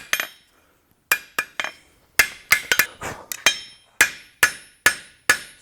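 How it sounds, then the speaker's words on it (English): Light, fast hammer blows forging a pair of blacksmith's tweezers, ringing metallic strikes coming close together in quick bursts with short pauses between, close and loud with no talk. "So we're using light hammer strikes and fast."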